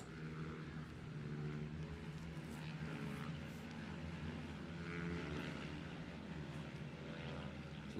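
Stock racing minibikes heading out onto the Kirkistown circuit, a steady distant engine drone that holds at a fairly even level, with no talk.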